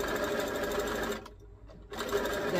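A domestic sewing machine stitches fishing line into the hem of sheer organza, running in a steady close whir that pauses briefly midway and then resumes.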